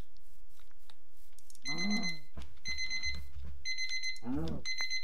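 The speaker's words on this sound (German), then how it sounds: "Sorry für den Wecker." An alarm clock rings in repeated bursts of bright, steady electronic tones, each lasting about a second with short gaps, heard over low background sounds and a voice.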